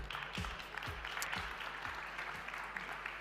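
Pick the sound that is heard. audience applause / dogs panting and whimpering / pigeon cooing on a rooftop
audience applause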